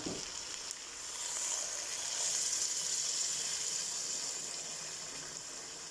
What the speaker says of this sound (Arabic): هسه ان شاء الله راح اضيف المي الحار